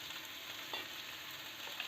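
Onions frying in a pan for a vegetable masala khichdi give off a steady, close sizzling hiss that runs unbroken, with only a faint shift or two as they are moved.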